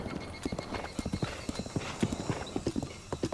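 A horse gallops in the video game Zelda Breath of the Wild, its hooves beating a quick, steady clip-clop rhythm at close range with no one talking.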